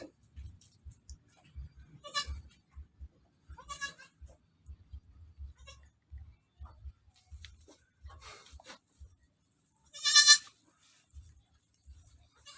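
Newborn goat kid just after birth, giving a few short, wavering bleats spaced several seconds apart, the last one louder and nearer, amid quiet soft rustling and faint clicks.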